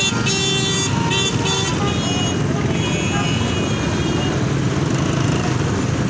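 A congested street in a traffic jam in Orangi Town, Karachi, with a constant loud roar of engines, several horn toots early on, and continuous close vehicle noise throughout.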